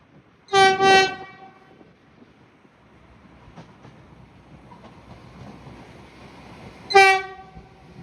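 A train in Ireland sounding its horn, two loud closely spaced blasts, then a quieter rumble as it passes and one more horn blast near the end.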